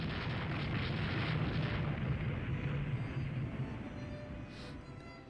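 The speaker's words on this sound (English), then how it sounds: "Enemy CV's hit by a torpedo." A torpedo strikes an enemy aircraft carrier in the naval strategy game Rule The Waves 2, a sustained, heavy rumbling roar that holds steady and slowly fades over several seconds, dense low-end noise without a sharp single crack.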